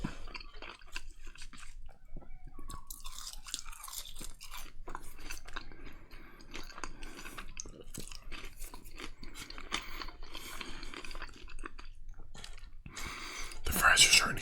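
Cold McDonald's fries chewed close to the mic with soft, moist crunches and mouth sounds, under intermittent whispering, with a louder rustle near the end.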